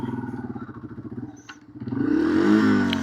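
A Yamaha TW200 motorcycle engine chugs along uphill on a toll road into piñon pines, a close, throbbing single-cylinder beat that dips briefly before rising into a louder rev.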